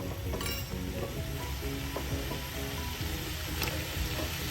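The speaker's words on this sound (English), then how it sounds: "I'm going to cook the potatoes a little bit" Potatoes cooking in a hot pan for tomato rice pulao, giving a steady loud sizzle and crackle of frying with occasional stirring scrapes throughout, no voices.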